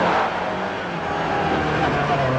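A Ford Escort rally car's engine pulls hard on a rally course, heard from inside as a loud, continuous, buzzing drone with road and wind roar and no talk.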